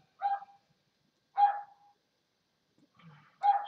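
A neighbour's small dog barks in three separate short bursts, fairly faint and somewhat distant, with quiet gaps between them.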